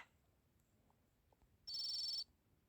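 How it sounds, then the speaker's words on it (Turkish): A telephone gives a single brief electronic ring, a short steady tone in an otherwise quiet room. "telefon çalıyor"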